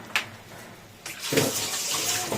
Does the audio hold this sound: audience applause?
no